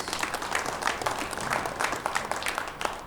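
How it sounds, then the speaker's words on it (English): Applause from a crowd at a WPBA Masters pool tournament as a player is introduced, a steady patter of clapping held at moderate level for the whole stretch. "Round of applause for Jessica Barnes"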